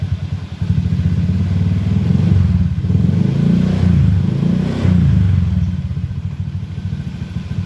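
A Honda Beat injection scooter engine starts up and idles steadily nearby, a low pulsing putter holding constant and loud throughout with a slight rise in revs midway.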